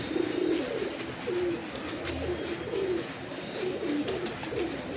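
Giribaz flying pigeons give a run of soft repeated coos, steady and moderately close over a faint background hiss.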